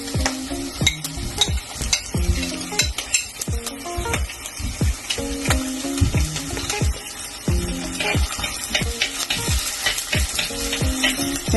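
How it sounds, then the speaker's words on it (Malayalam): Finely chopped garlic, ginger and green chilies fry in a pan, a steady close sizzle broken by frequent clattering scrapes of a spoon stirring them around, busy and continuous with no talking. "ചെറുതായിട്ടൊന്ന് ഇളക്കി കൊടുക്കുക, അല്ലെങ്കിൽ ഇത് കരിഞ്ഞു പോകാൻ സാധ്യതയുണ്ട്"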